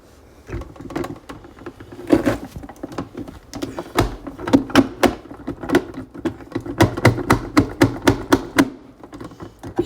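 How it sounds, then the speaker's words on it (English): A knife chopping and dicing an orange for fruit salad, a rapid run of sharp knocks on a cutting board, irregular at first and then steady and close, with no talking. "Now I'm going to chop up the orange."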